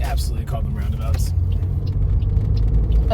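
A car rolls along a UK road toward a roundabout, its engine and road noise a low steady rumble beneath people talking inside.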